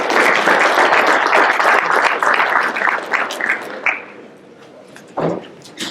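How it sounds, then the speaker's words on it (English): A crowd applauding to welcome baseball coach Kevin Schnall, dense clapping that holds steady, then thins out into scattered claps and a few cheers as it winds down. "Please give him and his staff a very warm welcome"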